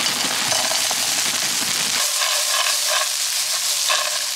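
Steady, loud sizzling of leftover spaghetti with peas and tomato paste frying in a pan, a continuous hiss with faint stirring scrapes.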